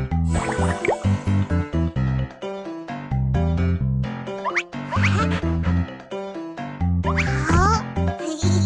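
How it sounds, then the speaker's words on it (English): Water pours into a bowl in a run of dripping, splashing pulses amid a busy layer of cartoonish music-like tones. "Pour the water into the bowl."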